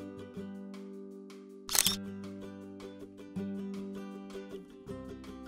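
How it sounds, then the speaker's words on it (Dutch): A camera shutter fires once, a brief sharp click from a single-lens reflex camera, heard over soft background music with sustained tones. "kunnen we de foto vastleggen door de ontspanner volledig in te drukken"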